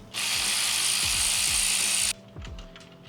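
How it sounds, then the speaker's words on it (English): Ratcheting clicks as bolts are loosened on the lower frame of a 2025 Triumph Bobber during exhaust removal, a loud steady buzzing ratchet burst followed by slower individual clicks, close up with no talk. "remove these 2 bolts up here and remove these 2 bolts down here"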